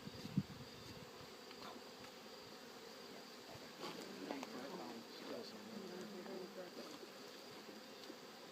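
Faint, steady insect buzzing from a few bees left in an opened beehive hums through the whole stretch, with soft rustling and a brief murmur partway through.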